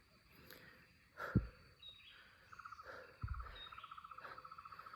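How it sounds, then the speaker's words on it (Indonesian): Bright, sharp songbird calls, likely a bulbul, ring out in a quiet mountain forest on Mount Batukaru, Bali, with a repeated chattering phrase and insects buzzing softly in the background. "Suara cucak Bali sih kayaknya tuh."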